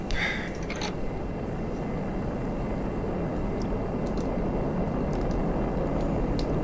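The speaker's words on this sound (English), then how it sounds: "Alright, engine is spooling up." The AJS-37 Viggen jet engine spools up inside the DCS flight simulator, a steady, loud broadband roar that holds level throughout, with a few faint clicks and a brief higher whine near the start.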